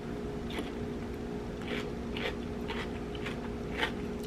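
Quiet, crisp crunching bites into a spicy cucumber salad, several spaced snaps over a faint steady background hum, close to the ear.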